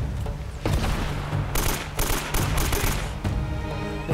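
Gunfire in the video game Uncharted: Drake's Fortune, with rapid bursts of automatic weapon fire and scattered single shots crackling loudly and continuously, without speech.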